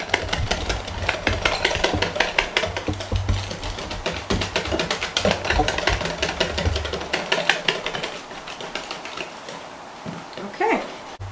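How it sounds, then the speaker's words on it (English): A whisk beats homemade pancake batter until smooth, giving fast, steady rhythmic tapping and scraping against a bowl that fills most of the clip and thins out near the end. "you're just going to whisk it until it's smooth"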